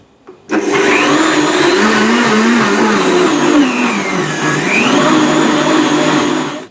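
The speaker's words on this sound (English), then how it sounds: "Just blend this for about 15 seconds." A blender runs steadily, whirring through a blend of eggnog and vanilla yogurt for a smoothie, starting after a brief pause and holding a loud, continuous motor drone with shifting pitch throughout.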